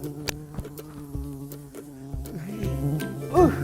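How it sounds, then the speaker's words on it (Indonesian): A bee buzzing close by indoors, its wavering drone rising and falling as it flies around, with scattered knocks and faint background noise and no talking. "Lebah, dari tadi ganggu orang kerja aja."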